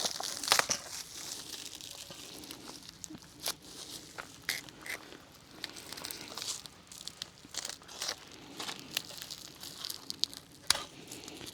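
A knife cuts open the plastic packaging of an olive harvester attachment, giving close crinkling, rustling and sharp tearing bursts in an irregular rhythm with no talk.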